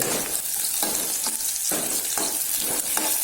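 Onion and chilli stirred in a sizzling pan alongside roasting dry fish, a continuous loud frying hiss broken by regular scraping strokes of a spoon.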